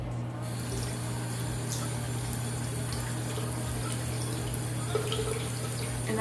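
Tap water running steadily into a sink, a constant close rushing flow with a low hum underneath.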